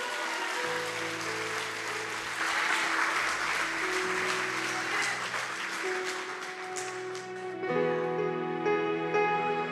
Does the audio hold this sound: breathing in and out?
no